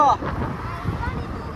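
Gusty wind buffets the microphone during a motorcycle ride in a low rumbling rush, steady throughout the short moment.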